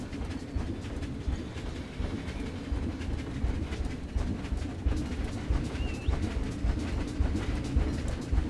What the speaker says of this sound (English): Choo-choo! Yes, you can ride the train.